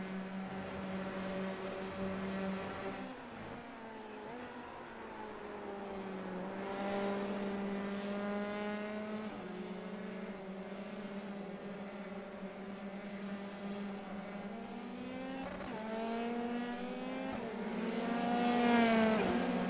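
Formula 3 race cars in a sim racing game scream past in a steady pack, several high-revving engines layered and shifting pitch, with a louder car sweeping close near the end.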